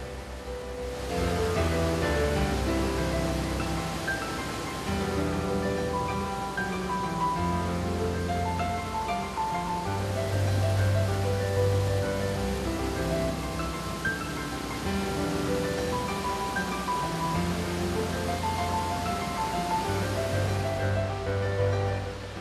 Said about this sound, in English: When rain comes to Buttermilk Creek, it churns and boils its way through the glen.